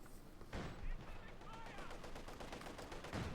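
DP light machine gun fire in the Company of Heroes 2 battle game, repeated rattling bursts of gunfire amid other battlefield effects, with a commentator talking over it.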